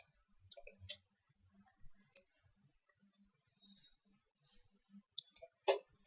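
Several sharp, dry computer mouse clicks, close and sparse, while Windows Explorer is restarted in Task Manager on a Windows PC, with quiet gaps between the clicks and a brief double click near the end.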